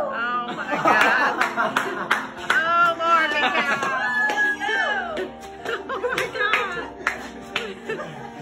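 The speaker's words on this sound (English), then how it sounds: "Come all the kids back to cheer Dad on in his last 5 miles." Family members cheering, clapping and laughing for a dad running the last miles of a 50-mile birthday run, lively close voices and scattered claps that continue throughout.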